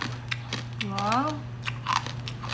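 Crispy bagnet pork skin crunches in a few sharp bites close to the mic, mixed with chewing and voices talking around it.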